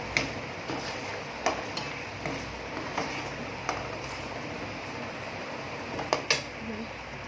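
A spatula scrapes and stirs Afghani egg masala spices (cumin powder, pepper powder and turmeric) in a pan, making soft, intermittent scraping clicks over a low, steady kitchen background.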